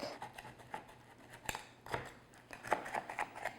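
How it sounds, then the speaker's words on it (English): A sharp knife runs around the edge of a pan of butter tart squares, making faint, close scraping and tapping strokes in short, uneven bursts. "take a sharp knife and go around the outside edge, because it does tend to stick"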